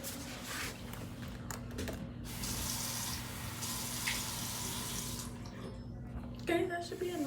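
A tap runs steadily into a cup being filled with water for making slime, a close continuous splashing stream that stops near the end, followed by brief handling sounds.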